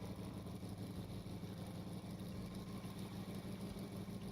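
Boat engine held at half throttle with the clutch fully engaged in Stormworks: Build and Rescue, a steady mid-pitched drone that stays faint and constant throughout with no talk.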